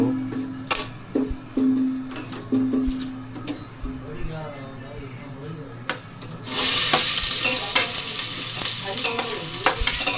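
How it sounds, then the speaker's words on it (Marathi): Chopped onions sizzle and fry in hot oil with whole spices in a pan on a bachelors' room stove, with stirring clatter and bursts of frying that swell into a loud, steady hiss in the second half, and someone talking early on. "आता कांदो आपण मस्त भाजून घेतो"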